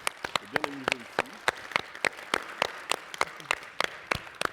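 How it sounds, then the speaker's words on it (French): An audience claps at a stage event, a scattered run of individual claps near and fairly loud, with a voice briefly audible under the clapping. "qu'on applaudisse aussi notre dessinatrice"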